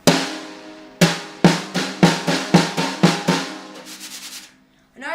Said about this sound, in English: This is what the brushes sound like.